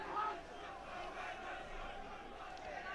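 Football crowd at a League Two match between Forest Green Rovers and Swindon Town, heard very close from pitchside: a steady, dense roar of many voices with shouts rising out of it.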